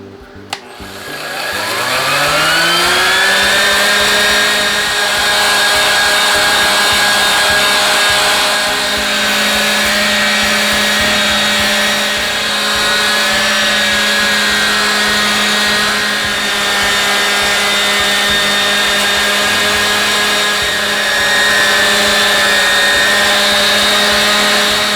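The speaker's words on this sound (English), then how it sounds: "Also use a 5-inch orbital sander." A 5-inch orbital sander runs against a knife handle on a knife blank, spinning up after a sharp start into a loud, steady whine with a low hum that holds nearly unchanged throughout.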